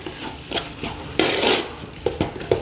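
Garam masala being stirred in a cooking pan, with scraping and knocking strokes of a spoon against the metal over a soft sizzle, close and fairly loud in short bursts.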